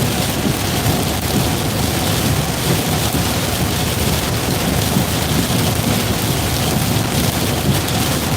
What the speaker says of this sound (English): There's a little bit of hail in the storm